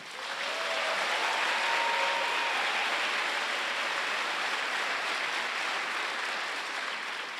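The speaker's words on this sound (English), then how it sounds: "let's give them a round of applause" Audience applause for storytellers at a live storytelling show in Des Moines, a steady, full wash of many hands clapping that swells in quickly and holds loud throughout with no talk over it.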